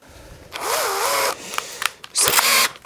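A 16 mm bit drilling into poplar wood, a power drill whining loudly in two bursts with a pitch sweep in the first, separated by brief quieter clicks and handling noise.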